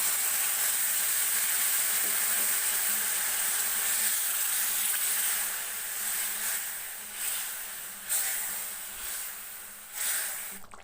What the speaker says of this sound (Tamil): நல்லா கொதிக்குது. எண்ணெய் பாருங்கள்